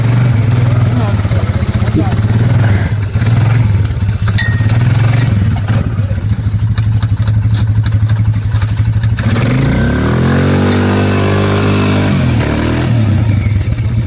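Winch hauling a heavy log on an icy leaf-covered trail: a steady loud engine drone runs throughout with clattering, then the pitch sweeps down and back up as the pull strains and eases.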